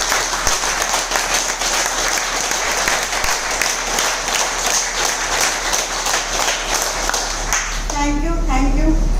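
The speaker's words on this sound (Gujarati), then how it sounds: "હાથ ઊંચો કરીને જોરથી તાળીઓ." Loud, sustained applause from an audience at an acupressure product event in Ahmedabad, dense clapping filling most of the stretch before a voice begins speaking over it near the end.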